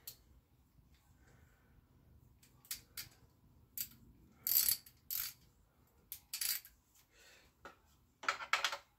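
A ratchet tightening bolts on the mudguard of a Honda Z50 clone minibike: short, sharp bursts of clicking in several separate strokes with quiet pauses between them, close and fairly loud.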